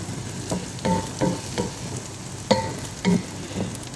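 Bitter gourd and egg being stir-fried in a pan, a steady sizzle broken by repeated sharp scrapes and clacks of a utensil stirring, close and fairly loud with no talking.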